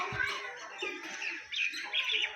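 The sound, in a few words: pigeon calling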